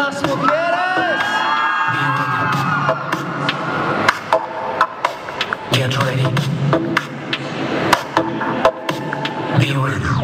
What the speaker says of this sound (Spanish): Y el grito de las mujeres.